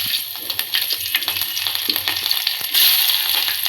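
Green chilies fry in hot oil with cloves and cinnamon, a loud, continuous close sizzle with scattered pops and stirring scrapes, swelling louder near the end.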